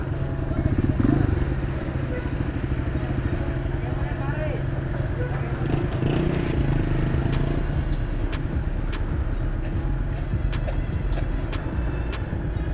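A Rusi KRY 150 motorcycle engine rumbles steadily while riding through deep flood water on a highway, splashing and clattering water noise running throughout, with people talking over it.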